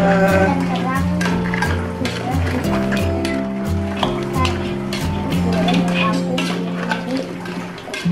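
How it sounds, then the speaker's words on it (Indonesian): Continuous scraping and clinking of a utensil stirring crab with fish sauce in a pan, with music playing underneath. "Sekarang kita aduk-aduk agar semua tercampur rata."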